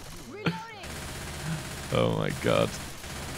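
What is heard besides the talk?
gunfire in the video game Left 4 Dead 2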